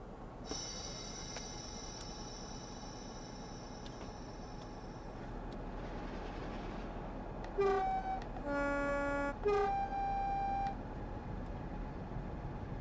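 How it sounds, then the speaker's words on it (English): A steam locomotive horn in the Blackpool Branches train simulator sounds a few short, wavering toots over a steady rumble of the running train, thin and strained in tone. "This horn always sounds as if the locomotive is 3 miles away from totally collapsing."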